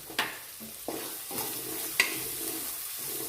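Finely chopped onion sizzles and fries in a pan for Rajasthani dal, with a steady hiss broken by a few sharp scrapes and clinks of stirring.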